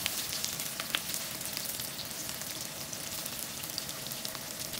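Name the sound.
sautéing ginger, onion and garlic in a pan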